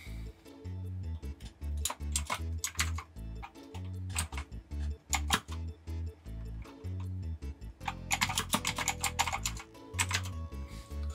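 Rapid clicking of keys on a computer keyboard during a Gartic Phone game session, with bursts of quick keystrokes and short pauses, close and fairly quiet, with no talking.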